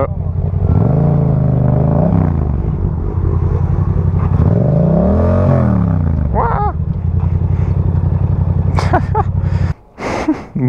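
A Yamaha MT-07 motorcycle engine revs loudly and close by, pitch sweeping up and down in long surges, after a bag snags the throttle; the roar holds steady before cutting out near the end.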